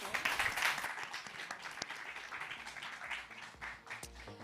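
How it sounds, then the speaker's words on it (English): Applause rises from an audience at a business summit, quiet and distant, a soft wash of clapping that tapers off over a few seconds. "Round of applause for"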